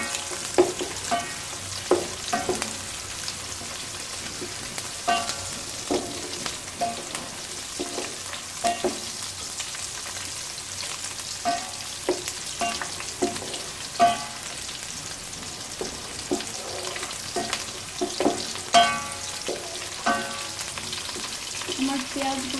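Onions soften as they fry in a pan for a water lily and prawn curry, a steady close sizzle with frequent scraping and stirring clicks and no talking.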